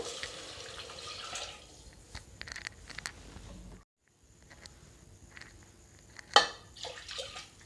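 Water poured into a cooking pot of frying tomatoes for tomato bath: close splashing and trickling, a short gap of silence, then more pouring with one sharp clink near the end.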